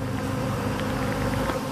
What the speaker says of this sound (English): Hell of a lot of bees now flying around, as you can imagine.